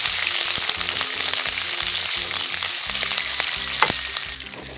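Curry leaves, ginger, green chili and garlic frying in hot oil for lemon pickle, a loud continuous sizzle with crackles, over rhythmic background music.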